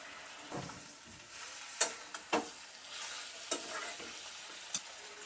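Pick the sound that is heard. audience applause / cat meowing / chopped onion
chopped onion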